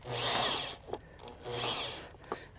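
A power drill with an auger bit drills into wood, whining in two sustained bursts, each followed by a brief scraping knock, close and moderately loud.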